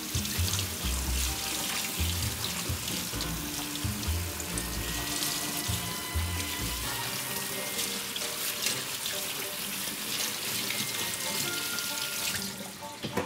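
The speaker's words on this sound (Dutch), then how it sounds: "Gewoon even afspoelen onder de koude kraan." Cold water runs steadily from a kitchen tap, splashing and trickling as green beans are rinsed beneath it for several seconds.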